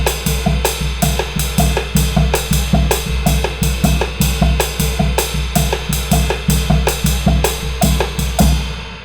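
Drum kit playing an Afro-Cuban 12/8 groove, the bass drum splitting the triplet onto its first and third notes; steady, evenly spaced hits repeat loud and close throughout with no talking.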